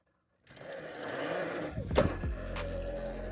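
An electric bike takes a little throttle for a wheelie practice, the motor and tyres rising from silence into a close whirring roll with a brief knock midway.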